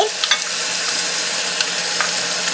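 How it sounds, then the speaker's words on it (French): Minced onions added to meat frying in a pan, giving a steady close sizzle with a few small crackles and pops. "J'ajoute les 2 oignons émincés."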